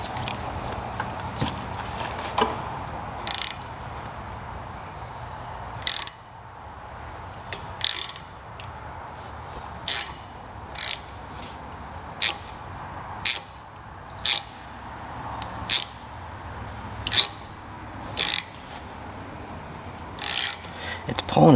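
A 1/4 inch socket on a ratchet turning a bolt during a PTO shaft repair on an Alamo SHD 88 flail mower, giving sharp clicks at irregular intervals over a steady low background hum.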